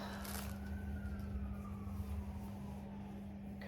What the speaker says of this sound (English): Okay, sirens.